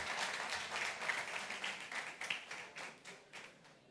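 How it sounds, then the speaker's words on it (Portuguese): An audience claps for a volunteer coming forward, quiet, fairly distant rhythmic applause that pulses and gradually fades. "bate palmas para ela que está vindo."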